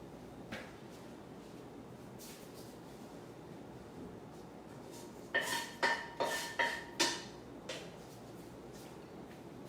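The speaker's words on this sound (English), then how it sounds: "so let me wash the pan first" A pan being washed at a kitchen sink, mostly quiet running water, then a cluster of six or so clattering metallic knocks and scrapes of cookware near the end, close and moderately quiet with no talking.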